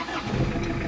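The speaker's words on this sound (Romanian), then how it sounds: "acționăm butonul verde și motorul pornește foarte rapid" A car engine started by pressing a green button on an electronic starter device fires up almost instantly, a dense low rumble and roar held close and steady for under a second, with no voices.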